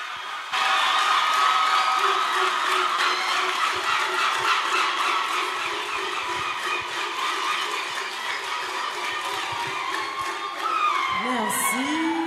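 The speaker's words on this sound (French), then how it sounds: "Sous vos applaudissements," An audience at a gospel singing contest claps and cheers for the next contestant, a sustained crowd roar with whoops and steady applause that eases slightly near the end, where a voice cuts in.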